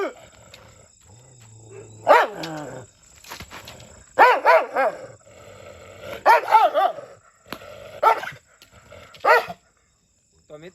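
A Bavra (Bawri) dog on a farm barking in loud, spaced bursts with growly, deep tones, roughly half a dozen barks over several seconds, close by with some background hum.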